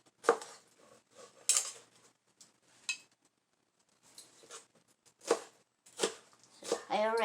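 A knife slices a bell pepper in quick, sharp cuts against a board in a home kitchen, with scattered taps and clinks, and a voice talks between the cuts.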